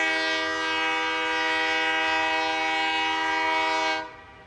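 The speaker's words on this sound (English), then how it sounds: "So we're gonna hop in this train and we're going to blare the horn" A train horn in the video game Satisfactory blares as one long, loud, steady tone for about four seconds, then cuts off abruptly.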